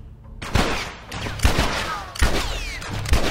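Gunfire in The Last of Us: four loud, sharp shots at roughly even intervals, each with a ringing decay between them, close and prominent.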